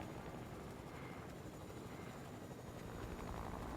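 A Fortnite helicopter thrums with a steady, dense rotor roar that fills the whole clip, loud and continuous with no breaks or voices.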